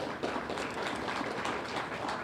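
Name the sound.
audience applause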